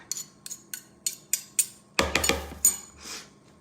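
A metal spoon scrapes and taps against a pan or bowl, with a series of sharp regular clinks, then a louder cluster of scraping knocks as food is spooned out, close and clear.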